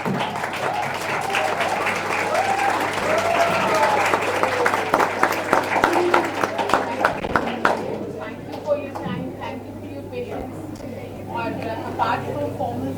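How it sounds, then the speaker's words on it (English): A ceremony audience gives the chief guest sustained applause with cheering, loud and dense for about eight seconds before thinning to scattered claps while a few voices continue. "give a huge round of applause to Miss Kuratulan"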